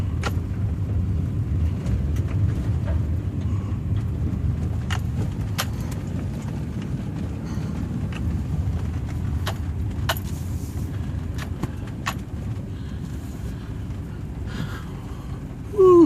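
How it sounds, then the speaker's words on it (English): A pickup truck drives through mud on a beach after rain, with a steady low engine and tire rumble throughout and scattered sharp clicks and splatters over it. "looks like I'm going to get my truck filthy to do it."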